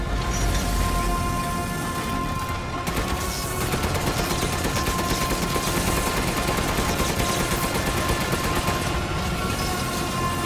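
Gunfire from Resident Evil Village, the video game, sounds as a relentless, loud stream of rapid shots. Dense automatic bursts run for about ten seconds, with a brief dip partway through and no voices over them.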